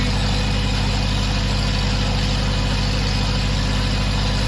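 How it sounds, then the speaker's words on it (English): An old tractor engine runs steadily on a dynamometer, a loud, continuous low idle-like drone with a constant throbbing hum throughout and no voices. "this is a good way to run an old engine in. This tractor actually needs this"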